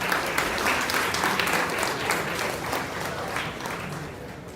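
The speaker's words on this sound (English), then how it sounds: "Let's give a round of applause for him." An audience at a Chennai React anniversary meetup applauds steadily, a dense, sustained round of clapping from a sizable crowd lasting several seconds without pause.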